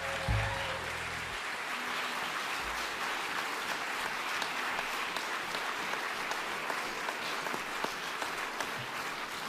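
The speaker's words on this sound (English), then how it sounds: "You just keep applauding" Applause from a jazz vespers audience at a memorial celebration, sustained and even for the whole stretch, a full room of clapping with a brief musical tone fading at the start.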